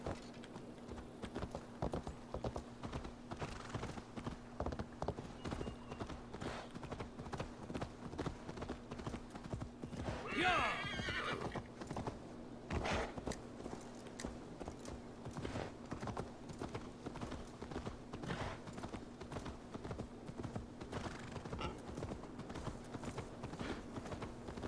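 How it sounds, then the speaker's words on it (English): A horse in the Assassin's Creed Valhalla video game trots with steady, rhythmic clip-clopping hooves over a constant low hum, with a brief whinny partway through and no talk over it. "Horse."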